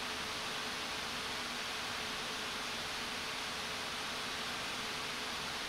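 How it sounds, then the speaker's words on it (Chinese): An ILLEGEAR Vulcan NX Arctic Edition gaming laptop under a combined CPU and GPU stress test gives off a constant broadband whoosh of fan noise, steady and unchanging, heard alone. "这里我也提供了双烤时的噪音表现提供大家做参考"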